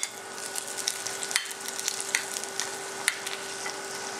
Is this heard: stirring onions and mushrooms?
yes